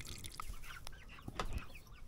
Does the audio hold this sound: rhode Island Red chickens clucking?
yes